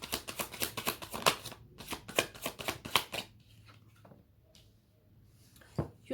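Tarot cards riffled and shuffled in rapid, close crackling bursts for a few seconds, then a quieter pause with a couple of soft taps as cards are drawn and set down.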